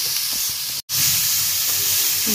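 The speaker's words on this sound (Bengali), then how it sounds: "আর আমি যে ডালটা সিদ্ধ করে রেখেছিলাম সেটা এখন এর মধ্যে দিয়ে দিচ্ছি" Boiled lentils added to cumin frying in a pan for daal puri filling, producing a loud, steady close hiss of sizzling broken by a brief silent gap, with no talking.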